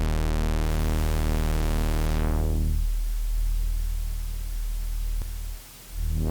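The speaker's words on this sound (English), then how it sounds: "Let's go for some pink noise." Synthesized pink noise for bass sound design starts as a dense, buzzing harmonic hum, then sweeps into a broad, steady hiss with a low throbbing undertone that briefly dips near the end.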